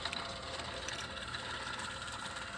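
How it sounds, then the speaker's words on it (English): A Co-Z sliding gate motor, powered at 110 volts for testing, runs with a faint, continuous mechanical whir and light ratcheting texture, heard from a short distance with no talking. "The actual motor's working."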